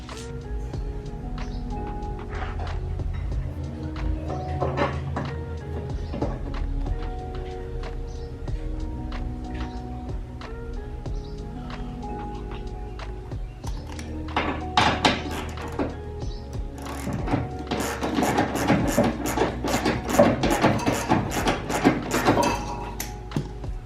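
Bolts being fastened to mount a traction bar to a vehicle chassis give a string of close metallic clicks, ratcheting taps and knocks, growing busier and louder toward the end.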